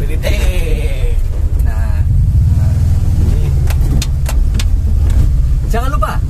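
A modified Mitsubishi T120ss pickup truck driving slowly around a workplace, its engine a steady close rumble with brief revs and some rattles, while someone talks over it throughout.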